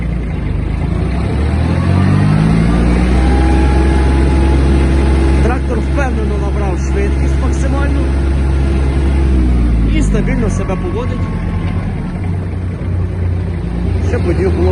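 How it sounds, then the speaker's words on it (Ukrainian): An Iseki TG-253 Japanese mini tractor creeps along at its minimum speed, its diesel engine holding a loud, steady drone with slight wavering in pitch. "Показую вам мінімальну швидкість трактора. Так це він так рухається."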